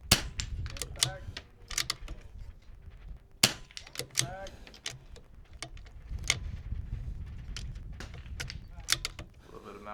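Sharp, snappy shots from a .22 rifle crack repeatedly at an NRL22 match, irregularly spaced and fairly close. Metallic clinks, rustling and faint voices sit between the reports.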